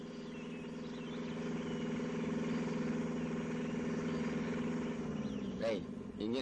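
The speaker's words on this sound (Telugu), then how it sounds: "engine ఎడెక్కినట్టుంది, radiator నీళ్ళిపోయి" An overheated car engine idles with its radiator run dry, giving a steady, close mechanical hum with a faint whine rising near the end.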